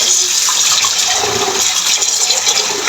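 Blanched green peas being rinsed with cold water, a loud, close, continuous rush and splash of running water that stays steady throughout, with no speech.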